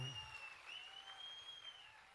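Audience applause at a comedy and mimicry show during a festival gathering, a steady faint wash of clapping that stays fairly even throughout without voices over it.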